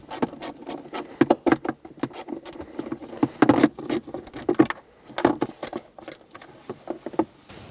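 Phillips head or 8mm screws come out of the center console cover of a 2006-2011 Honda Civic, with close, irregular clicks, rattles and small plastic knocks in short bursts and no talking.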